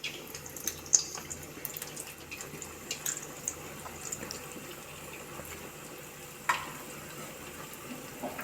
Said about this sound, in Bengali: তো এখন আমি তেলে ভেজে নিচ্ছি, সাদা তেল দিয়ে।